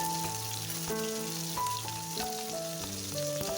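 Spices sizzle steadily in hot oil in a pan with tomato, slit green chilies and ginger for a papaya and potato dalna, with a constant frying hiss under gentle music playing in the background.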